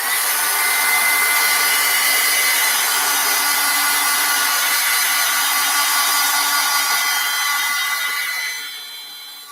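A hair dryer blows steadily at close range, drying acrylic paint, a loud continuous roaring whoosh that fades slightly toward the end.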